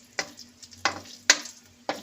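An egg frying in a pan with sizzling bursts and four sharp scraping or stirring strokes at a steady pace, close and clear, with no talking.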